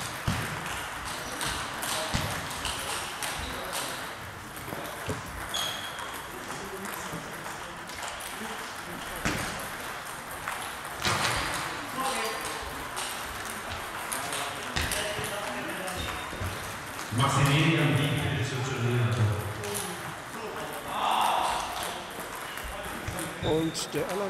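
Table tennis balls ping and tap across tables at a large amateur tournament, the Erlangen Cup in 2012, in a busy hall where the repeated bounces sit under a steady crowd hum.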